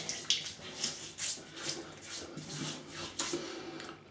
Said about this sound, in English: I'll wet the face.